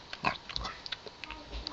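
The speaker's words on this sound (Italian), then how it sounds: "sono dei cinghiali" Cartoon wild boars grunt and snort in short, choppy bursts, several quick squeals and grunts close up with no talking over them.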